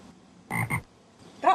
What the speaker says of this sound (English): That wall sure as hell has frogs in it.